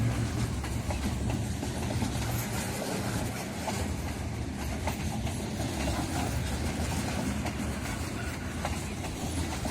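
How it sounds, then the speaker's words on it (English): CN Rail train rolling over the Main Street road crossing in Benito, Manitoba, a steady loud rumble with rhythmic clickety-clack of wheels on rail joints throughout, fairly close. "Here we see the train taking the Main Street crossing."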